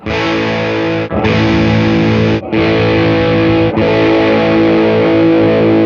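Sustained, heavily distorted electric guitar chords, strummed four times with brief gaps, each through a different overdrive pedal with a slightly different tone, loud and up close.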